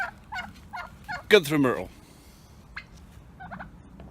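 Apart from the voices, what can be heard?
turkeys gobbling on a farm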